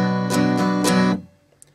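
Acoustic guitar strummed openly with no percussive muting, three sustained full strums ringing out together before the sound drops away, played alone for a pop-song lesson.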